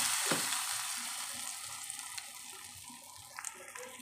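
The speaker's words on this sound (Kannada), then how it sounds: "ಈ ಒಗ್ಗರಣೆ ದಾಲ್ಗೆ ಹಾಕೋಬಿಡೋಣ." A hot spice tempering is poured into spinach and moong dal, sending up a soft, continuous sizzle that slowly fades, with a few light clinks from a pan.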